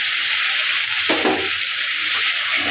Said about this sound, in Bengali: আদা রসুনের গন্ধ যতক্ষণ না চলে যায় ততক্ষণ ভেজে নেব